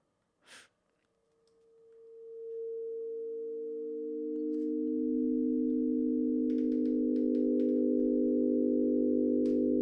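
A smooth synthesized chord swells in after a brief breathy noise, sustaining with rich overtones and a low rumbling layer joining midway, scattered faint clicks above.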